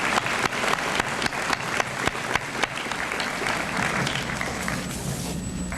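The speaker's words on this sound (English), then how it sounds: "So let's give this school a nice round of applause." Applause from an assembled crowd at a school honors assembly, steady many-handed clapping with distinct sharp claps punctuating the first half, continuing evenly and easing slightly toward the end.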